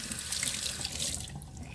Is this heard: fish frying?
no